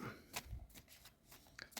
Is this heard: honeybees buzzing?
no